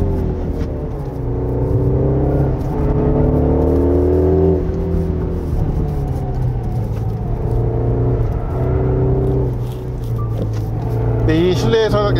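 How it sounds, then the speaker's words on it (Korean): A 2024 Mini JCW Countryman ALL4 in Go-Kart mode on a winding mountain road plays a synthetic engine sound through its cabin speakers: a loud, steady, artificial droning hum that climbs and dips in pitch as the car accelerates and eases off. "이 실내에서 이 스피커를 통해서 나는 가상 사운드는요, 좀 많이 인위적인 느낌이 있습니다"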